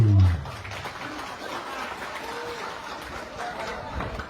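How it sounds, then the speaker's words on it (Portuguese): A crowd applauds at a Xavante gathering in the Urubu Branco village, scattered clapping running under voices and crowd noise after a loud thump at the start. "Sala de palmas aí!"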